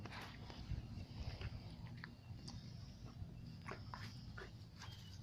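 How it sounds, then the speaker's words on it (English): A friendly dog whimpers softly and pads about a backyard, faint high whines and light footsteps scattered over a steady low outdoor rumble. "Super friendly dog."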